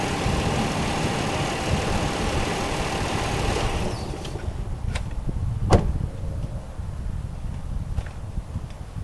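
A car engine idles with a dense, even rumble for about four seconds, then cuts off. A few sharp clicks and knocks follow in the quieter space before an oil change.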